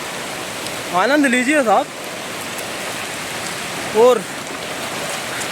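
Steady broadband rush of water at Amargarh waterfall, a continuous roar filling the whole clip while someone speaks briefly over it twice.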